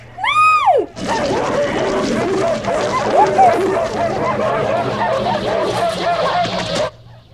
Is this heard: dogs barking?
yes